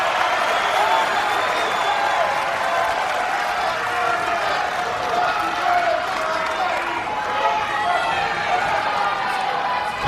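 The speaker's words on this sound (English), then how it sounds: "As the crowd comes to life." At a college wrestling match between Oklahoma State and Nebraska, the arena crowd roars and applauds in a dense, continuous wash of noise, with a commentator talking over it.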